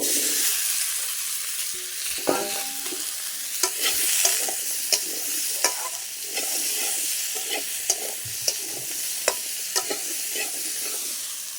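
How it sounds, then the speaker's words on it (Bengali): Potatoes fry in a wok with a continuous crisp sizzle, punctuated by sharp, regular scrapes and knocks of a spatula stirring them up close. "তালুগুলো হালকা করে ভাজা হয়েছে"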